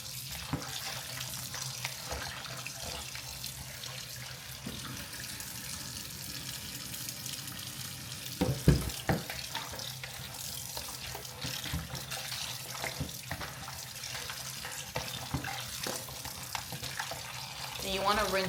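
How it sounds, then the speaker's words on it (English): Water from a kitchen tap runs steadily into a sink while goat meat is rinsed, a continuous splashing hiss with brief clatters and handling noises partway through. "And you want to rinse it well until the water is pretty clear."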